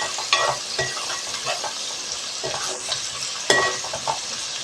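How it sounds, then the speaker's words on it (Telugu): Onions frying in a pan until golden brown, giving a steady, close crackling sizzle broken by several scraping stirs and clinks of a spoon against the pan. "ఈ ఆనియన్ అన్నది చక్కగా కొంచెం గోల్డెన్ బ్రౌన్ కలర్ వచ్చే వరకు ఫ్రై అయితే సరిపోతుంది"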